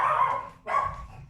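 A French Poodle barks twice in quick succession, close and fairly loud, with no voices around.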